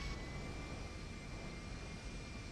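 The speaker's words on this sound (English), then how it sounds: "Let's go flying. I want to do a realistic takeoff." Steady broadband jet engine roar from an airliner in a flight simulator game, holding even and loud throughout as the aircraft spools up on the ramp, with no talking.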